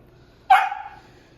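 A pet dog gives one sharp bark somewhere in the room during an indoor unboxing of a Disney Cruise Line ship Bluetooth speaker, a single short burst that quickly fades, with no talking.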